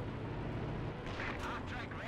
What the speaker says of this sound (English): Strafing support coming in, definitely causing some havoc